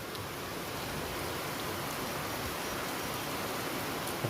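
Steady rain falls through an afternoon shower, an even, continuous hiss that stays at one level throughout with no voices and no distinct drops standing out.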